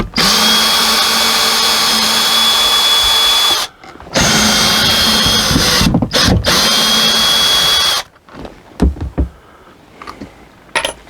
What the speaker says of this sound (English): I got to get these screws out.